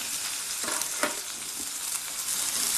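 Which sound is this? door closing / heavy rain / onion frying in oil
onion frying in oil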